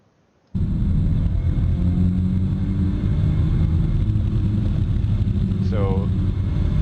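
A car engine roars steadily at a track during an autocross run, a loud continuous drone with a brief whine sweeping through near the end as a gear shifts.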